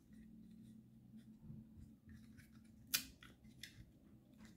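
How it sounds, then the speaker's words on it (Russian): A craft hole punch bites through a folded foamiran sheet to cut a small flower. One sharp, crisp snap rises from faint rustling handling noise in a quiet room. "Берем фоамиран, складываем его, подставляем дырокол."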